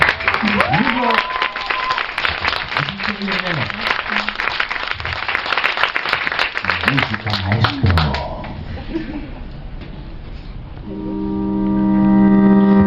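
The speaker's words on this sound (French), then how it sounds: "Merci de les applaudir, nos invités de ce soir, Cyril." Studio audience applauding the evening's guests on a French television show, steady dense clapping for about eight seconds under music and voices, then fading as music continues.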